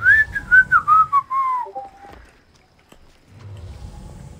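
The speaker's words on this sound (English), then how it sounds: "Why do I always have to whistle?" A character whistles in Assassin's Creed Odyssey: a bright, loud run of short rising and falling notes over low game ambience, fading out partway through before the background hum returns.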